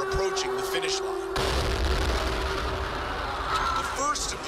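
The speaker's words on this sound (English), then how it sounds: "The first of the two explosions rocks the sidewalk along the course." A bomb blast goes off on the sidewalk beside the marathon course near the finish line, a sudden deep boom that cuts through crowd noise and leaves a long, heavy rumble and echoing din afterward.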